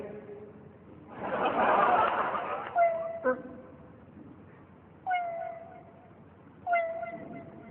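A human voice imitates a cat meowing beside women cutting fish: a breathy hiss and then three separate plaintive meows spaced a second or two apart, close and fairly quiet, alone.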